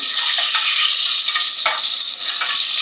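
Small onions dropped into hot oil for restaurant-style chicken sambar rice give a loud, bright, continuous sizzle, punctuated by brief bursts of spattering as they are stirred in the pan.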